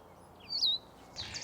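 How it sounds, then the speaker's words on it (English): A blue-headed vireo sings outdoors in the morning: a brief, clear, slurred whistled phrase at moderate distance, followed by a second softer note. "that blue-headed vireo is the craziest bird out here this morning"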